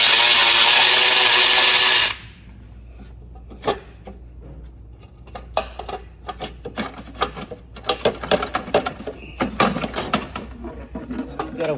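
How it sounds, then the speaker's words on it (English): An electric ratchet works a bolt on a BMW E46 exhaust header, heard as bursts of short whirring and clicking after a loud opening noise, with scattered metallic knocks as the work continues. "now I'm gonna use the electric ratchet to pull it out"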